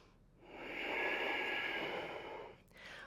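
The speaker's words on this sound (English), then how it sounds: "2 more full deep breaths in." A person takes a full, deep breath during a power yoga session, one slow, soft airy inhale and exhale swelling and fading, close and quiet, with no talk.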